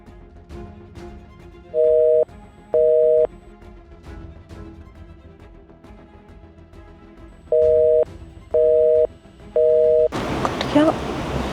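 A phone call fails to connect, giving a busy signal of five loud, evenly pulsed tones in two groups, with quiet background murmur between them and a burst of noise at the end.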